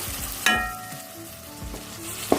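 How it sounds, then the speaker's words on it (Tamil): Eggplant rice mixture sizzles in a frying pan as it is stirred, with close scraping strokes of the spoon over a steady hiss of frying. "இதை நம்ம கிளறிட்டு"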